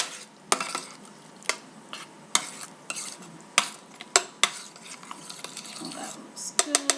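Shrimp being stirred through a hot butter and vegetable sauce in a pan: a steady sizzle runs underneath while a utensil scrapes and clinks against the pan in a dozen or so sharp, irregular knocks.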